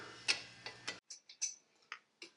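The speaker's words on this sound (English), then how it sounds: "Get you a 14mm wrench, loosen the bolts for the caliper." Ratcheting clicks from a 14mm wrench loosening brake caliper bolts during a disc and pad replacement, a dozen or so sharp ticks in irregular bursts, close and moderately loud with no talking.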